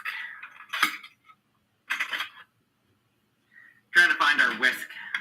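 Cutlery and utensils rattle and clink in short bursts as someone rummages through a kitchen drawer for a whisk, with pauses between the bursts and a louder clattering spell at the end, close by.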